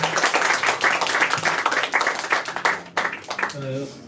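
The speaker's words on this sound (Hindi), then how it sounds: "इस बात पे एक बार जोरदार तालियां" An audience claps loudly for a poetry reading about daughters, a thick burst of many hands that tapers off as a voice starts up at the end.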